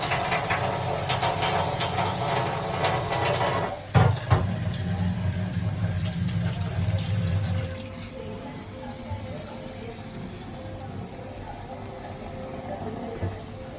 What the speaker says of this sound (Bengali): এই যে এবার আমি পানি দিয়ে নিলাম